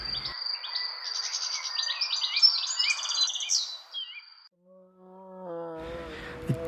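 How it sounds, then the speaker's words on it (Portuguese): A bird calls in a rapid series of bright chirps and trills, followed by a few lower whistled notes and a short burst at the end, close and clear with no talk. "Som do pássaro."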